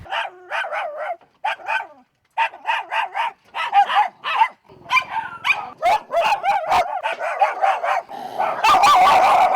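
Street dogs kept at a house in Kanhangad bark repeatedly in quick bursts, several voices overlapping up close, with a few yips and whimpers mixed in and a noisier scuffle near the end.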